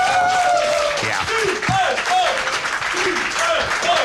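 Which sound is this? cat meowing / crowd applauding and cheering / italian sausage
crowd applauding and cheering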